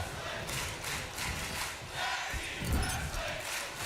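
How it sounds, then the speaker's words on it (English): A simulated arena crowd in the WWE 2K25 wrestling video game roars in a continuous, swelling cheer with a heavy low rumble, steady and loud throughout. "you hear this crowd, they're loving it"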